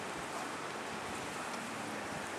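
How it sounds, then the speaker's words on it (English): Steady rain falling outdoors during a wagon ride, a constant even hiss with no breaks and no talk. "It's raining."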